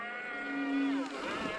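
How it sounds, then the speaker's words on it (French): An electric motocross bike of the kind raced in the world championship idles with a smooth, tonal motor whine that holds steady, then bends and shifts pitch before settling again. The whine is close and continuous. "Et là on entend le moteur tourner, c'est une sorte de ralenti en fait"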